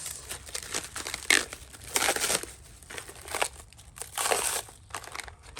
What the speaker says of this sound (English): So let's unwrap this.